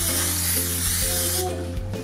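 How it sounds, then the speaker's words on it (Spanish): Aerosol cooking oil spray greasing a gelatin mold, a loud continuous hiss lasting about one and a half seconds before cutting off, with a low mechanical hum beneath and no talk. "Por este lado vamos a engrasar el molde con un poco de aceite"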